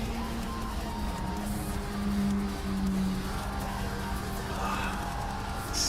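An Opel Corsa race car in a racing video game drones at a steady engine pitch throughout. Gear and revving shifts rise and fall slightly, with brief faint tire noise and no talk.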